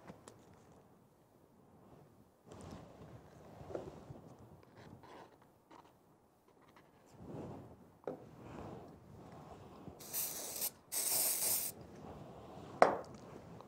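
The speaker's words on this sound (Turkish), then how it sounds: "Spreyimizi sıkıyoruz. Bu şekilde. Biraz bastırıyoruz." Short aerosol spray bursts used while making tourist souvenir crafts, two broad hissing blasts close to the microphone following quiet handling and rubbing noises.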